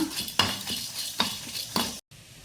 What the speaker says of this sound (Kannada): ಡ್ರೈ ರೋಸ್ಟ್ ಮಾಡ್ತಿದ್ದೇನೆ ನಾನು